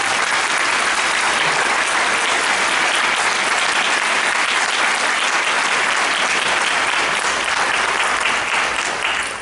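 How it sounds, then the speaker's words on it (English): A large audience at a university commencement ceremony gives an instructor a sustained round of applause, dense, loud and unbroken, with faint crowd murmur mixed in. "please join me in a round of applause for an outstanding instructor"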